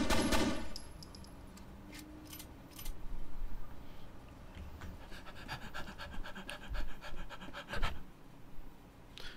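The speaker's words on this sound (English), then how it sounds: "I thought that was the game panting." A character in the video game F.E.A.R. pants in quick, rhythmic breaths, mixed with bursts of gunfire and clattering game effects, with no talk over it.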